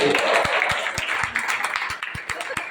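Church congregation applauding during a sermon, steady clapping with a rhythmic pulse of regular beats, moderately loud with a voice present.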